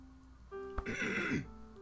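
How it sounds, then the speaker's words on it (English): A single short throat clearing comes from a nearby voice, a rough rasping burst lasting under a second against quiet room background. "I need to clear my throat a lot."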